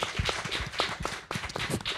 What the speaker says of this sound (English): please give a big round of applause for our panelists today